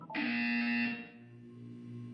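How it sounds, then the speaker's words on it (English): A single loud electronic buzzer sounds for about a second, a harsh steady tone that cuts off and leaves a faint lingering hum. "You will hear a buzzer. When you hear the buzzer, look down at the floor."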